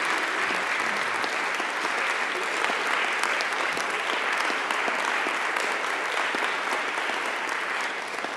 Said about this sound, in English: Let's give a big round of applause to these individuals,